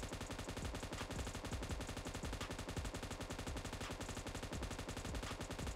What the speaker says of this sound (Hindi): अब जल्दी से भाई M249 की भी फायरिंग स्पीड देख लेते हैं